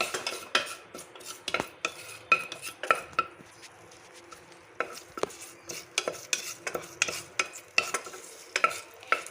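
Onions and curry leaves being stirred in a pan for crab soup, a rhythmic run of spoon scrapes and clinks over a low sizzle.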